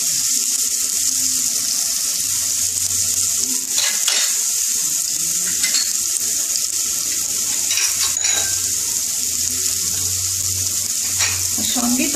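Garlic and green chilli sizzle steadily in a hot pan, a continuous close frying hiss with occasional stirring scrapes and no talking.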